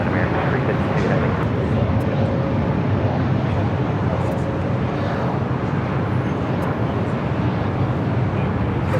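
An American Airlines Boeing 777-200ER, flight 352 arriving from Charlotte at LAX near runway 25 right, fills the air with a loud, steady, close jet roar that holds for the whole stretch, with faint voices underneath.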